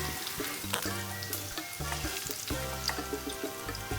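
Pork sizzles in a pan holding a lot of oil, a steady close frying hiss with small pops, heard alongside a continuous tonal background.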